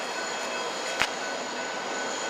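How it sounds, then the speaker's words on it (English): A train on railway tracks, giving a steady broadband rumble and hiss throughout with one sharp click at about the midpoint, heard from a fixed spot nearby. "there's a train right there"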